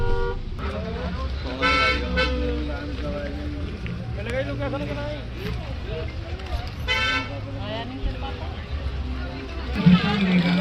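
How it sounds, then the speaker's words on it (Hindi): Heavy traffic jam on the road to a Shani Dev temple at night, with repeated car horns honking through a steady engine rumble and crowd noise, and people talking nearby. "कई किलोमीटर पीछे से ही आज बहुत ज़्यादा ट्रैफिक लगा हुआ है"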